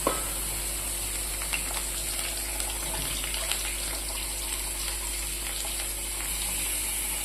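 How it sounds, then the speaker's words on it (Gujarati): Potatoes sizzle steadily in hot oil in a home kitchen wok, a continuous crackling fry close to the microphone with occasional louder pops and no talking. "તેલ આવી ગયું એટલે હવે આ નાખી દઈશું બટેકા"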